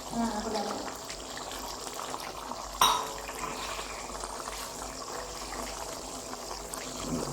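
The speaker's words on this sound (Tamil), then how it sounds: "அந்த சாறு எடுத்து வச்சுருக்கேன், அதை அப்படியே ஊற்றிக்கலாம்." Lemon juice trickles into a simmering mutton gravy in a home kitchen, a soft continuous liquid pour under steady background hiss, with a brief clink partway through.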